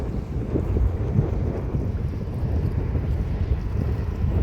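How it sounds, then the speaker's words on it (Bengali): Strong wind blows at the seashore, a loud, continuous low rumble buffeting the microphone close up, with no voices. "সব মিলে আসলে সমুদ্র পারে এত সুন্দর বাতাস"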